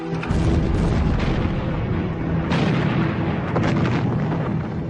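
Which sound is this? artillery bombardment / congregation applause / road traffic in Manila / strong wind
artillery bombardment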